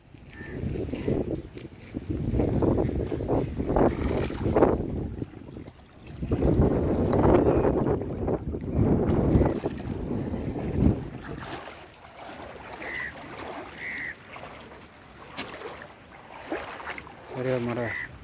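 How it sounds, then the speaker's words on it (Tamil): Strong wind buffets a small fishing boat at sea during a shrimp and cast-net outing, a loud gusty roar with water wash that rises and falls, easing in the latter half with faint voices. "காற்று சரியான காற்று."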